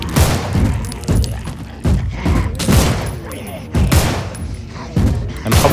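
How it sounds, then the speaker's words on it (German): Gunfire against zombies in the video game Contagion: repeated loud bursts of shots in an irregular rhythm, about six volleys, with quieter game sounds between them. "Warte mal, ich knall die mal lieber ab."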